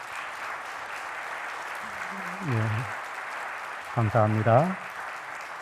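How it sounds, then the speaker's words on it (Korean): A church congregation at a pastor's installation and deacon ordination service gives sustained, warm applause that fills the room, while someone speaks briefly over it twice. "여러분 축복의 박수 뜨겁게 해주시면 감사하겠습니다"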